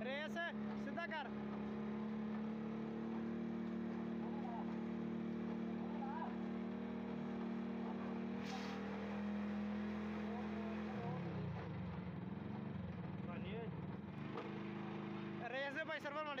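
A 70cc Honda motorbike engine drives a chaff cutter, a steady droning hum that holds for most of the stretch and then wavers and surges as it's revved, with occasional voices nearby.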